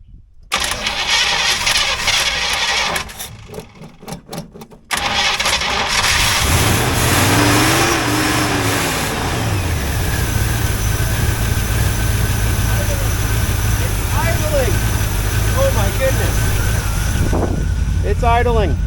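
An old square body Chevy farm truck that sat for about 15 years cranks over and catches, then settles into a steady, rumbling idle close by, with a brief stumble early on and voices speaking over it.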